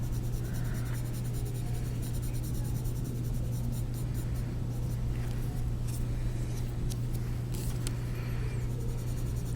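A blending tool works over Prismacolor colored pencil on paper, giving a soft, continuous scratchy rubbing close up, faint against a low steady background hum.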